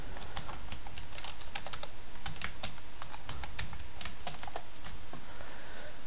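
A game title typed on a computer keyboard into a Google search in Firefox, rapid close key clicks in irregular bursts with a steady background hiss.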